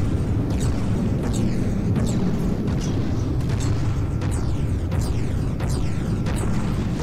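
Missile explosions in the naval combat game From The Depths come as a rapid series of deep booms over a constant low rumble, with sharp bursts about every half second to second and no voices.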